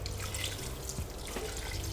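Mineral water being poured into a horse meat marinade in a home kitchen, a continuous splashing trickle with small drips, close and moderately loud without talk.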